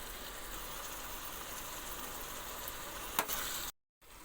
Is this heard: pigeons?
no